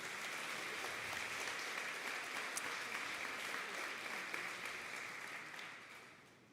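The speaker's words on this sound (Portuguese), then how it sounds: "Você pode dar um aplauso a Jesus nessa noite?" A church congregation applauds during an evening worship service, a dense, steady wash of clapping that holds at full strength and then tapers away toward the end.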